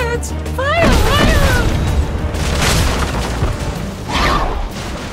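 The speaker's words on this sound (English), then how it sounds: "Fire the cannons!" Repeated deep booms and crashes of cannon fire roll through a noisy pirate battle scene in Fortnite, with shouting voices breaking through in between.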